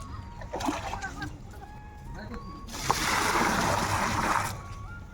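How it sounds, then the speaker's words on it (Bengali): Concrete mortar for a first slab pour is mixed with water, giving wet sloshing and splashing that swells into a sustained churning wash midway, with people talking over it. "তো আজকে প্রথম ঢালাই মশলা মাখা হচ্ছে"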